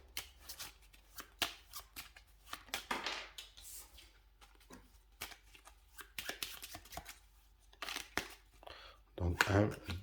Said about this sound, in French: Donc, hop, je vais remélanger.